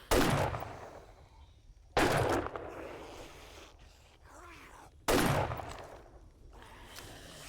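Three sharp gunshots ring out in a video game, fired at a spider's feet, each a loud crack followed by a decaying echo, spaced about two to three seconds apart with quieter ambience in between.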